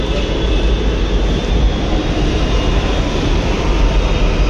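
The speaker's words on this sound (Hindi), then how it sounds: "अभी टाइम से ही मिली है मेट्रो" A Delhi Metro train pulls into the station with a steady, loud, broad rumbling roar of wheels and air that stays constant throughout, with no voices.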